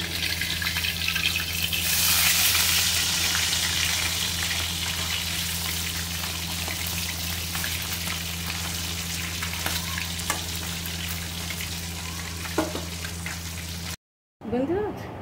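Rui fish pieces frying in mustard oil while being turned produce a long, steady sizzle over a low hum. The sizzle swells early on, and a few faint knocks come from the turning before a brief cutout near the end.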